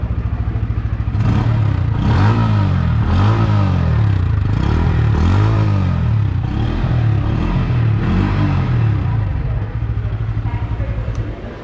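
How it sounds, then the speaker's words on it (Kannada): A new Bajaj Pulsar N160 motorcycle at its Bangalore launch event is started and left running, its exhaust giving a steady, throbbing low idle with a few gentle rises in revs, close and continuous. "ಗಾಡಿ ಸ್ಟಾರ್ಟ್ ಮಾಡಿಬಿಟ್ಟು ಎಕ್ಸಾಸ್ಟ್ ನೋಟ್ನ ಕೇಳೋಣ."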